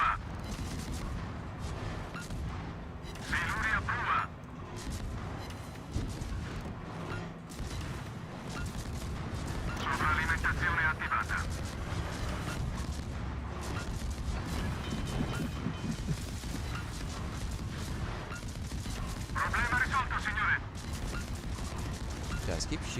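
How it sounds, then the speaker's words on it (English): Heavy naval gun salvos boom out in World of Warships at a steady, repeating pace amid ongoing battle noise, and game voice callouts and a player's speech run through it. "Just keep shooting."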